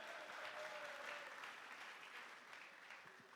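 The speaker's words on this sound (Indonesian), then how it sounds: "Tepuk tangannya dong." An audience claps steadily at a Human Rights Day commemoration event, a sustained round of applause that slowly fades, heard from a distance.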